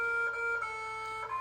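Mars Curiosity rover emitting a thin, steady electronic tone that wavers slightly in pitch like a faint synthesized melody, with a soft noisy hiss beneath, brief and quiet.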